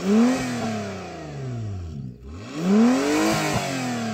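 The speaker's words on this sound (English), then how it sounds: "Go on, rev up the Honda." Honda car engine revving hard twice with no soft limiter, pitch sweeping up and down through each rise with a brief dip between, loud and close with no talk.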